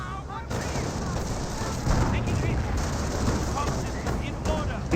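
Battle gunfire in the real-time strategy game Company of Heroes, with US riflemen shooting at a Hellcat tank destroyer, a steady rattle of shots and distant explosions under a commentator's voice.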